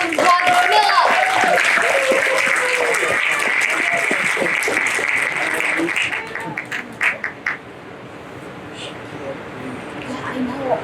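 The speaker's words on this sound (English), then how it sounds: "now let's give a big round of applause for Camilla" A theater audience at a Memorial Day magic show applauds a volunteer named Camilla, dense steady clapping for about six seconds under a voice, then thinning to a few scattered claps.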